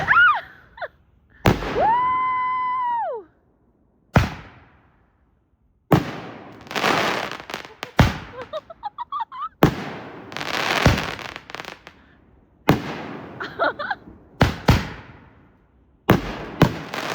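New Year's fireworks going off outdoors at night, with sharp loud bangs and crackling bursts at irregular intervals, some whistling rising shells between them, each blast trailing off into a brief echo.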